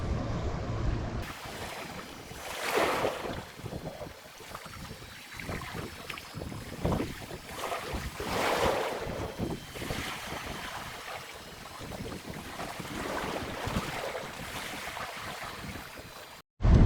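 Motorboats rumble past across open water, swelling and fading at intervals amid wind buffeting and lapping waves.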